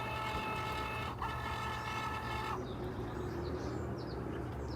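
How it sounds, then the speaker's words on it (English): A Cricut Joy cutting machine, set up outdoors, drawing in a sheet of cardstock; a steady motor whir with a short higher mechanical tone, then the drive stops, close and alone without talk. "I'm just going to load it into the machine."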